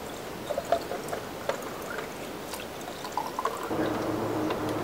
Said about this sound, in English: So I'm pouring this in the bottles.